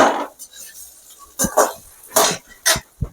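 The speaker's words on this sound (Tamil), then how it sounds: "நல்லா நல்ல பக்கமும் கிண்டி விடணும் சாதம் கட்டி இல்லாமல் உடச்சி விடணும்" Metal spoon stirring cooked rice in a pan while making urad dal rice: irregular scraping and clinking strikes against the pan, close and moderately loud, with a voice heard briefly at the start.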